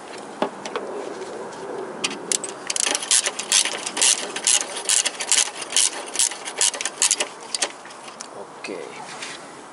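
A hand ratchet works the 12 mm exhaust manifold bolts on a Toyota Corolla VVT-i engine, giving bursts of rapid close clicking over a noisy background, with birds faintly audible.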